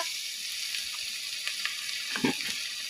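Onion, chili, spices and ginger paste frying in a pan, giving a soft, steady sizzle with a few brief clinks of stirring near the end, and no talking.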